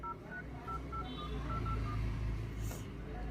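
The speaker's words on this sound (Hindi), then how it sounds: "अब कॉल करके देखते हैं" Dialing tones on a Samsung F34 5G phone while placing a call: a series of short, evenly paced beeps at shifting pitches, clear and close over a low hum.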